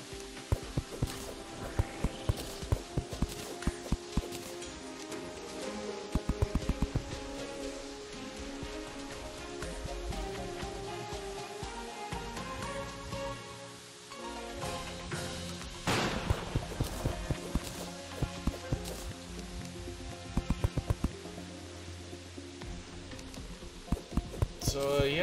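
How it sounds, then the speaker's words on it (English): Steady rain patters throughout a thunderstorm in a video game with a snow biome, mixed with game music and clicking or stepping sounds, moderately loud and continuous. "Raining like a motherfucker."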